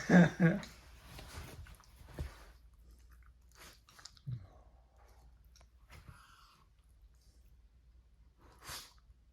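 Basenji dogs wrestling on a bed, snapping jaws and chomping play-bites with snorts and sneeze-like puffs, scattered close, quiet bursts separated by pauses, loudest at the start.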